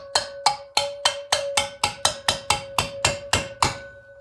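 Tapping the valves on a refurbished Land Rover Puma 2.4 TDCi cylinder head to seat them: about a dozen close, evenly spaced metallic knocks, each ringing with a clear tone. No talk is heard.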